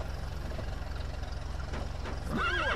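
Horse in the video game Metal Gear Solid V: The Phantom Pain gives a brief whinny near the end, over a steady low engine-like rumble and background game noise.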